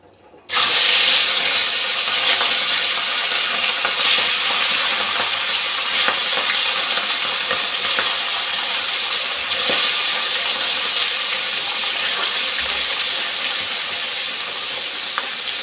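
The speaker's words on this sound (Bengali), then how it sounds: "তেল গরম হয়ে গেছে, মাছটা ভাজতে দিয়ে দিচ্ছি।" Katla fish sizzles in hot oil in a pan, a loud, dense crackling hiss that starts abruptly as the fish goes in and holds steady throughout.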